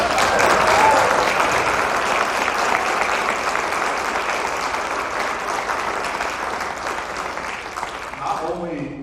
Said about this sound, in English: Let's do one more huge round of applause.